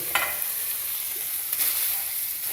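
Clams clatter a couple of times in a nonstick frying pan over a steady, hissing sizzle, the sharp clacks standing out briefly.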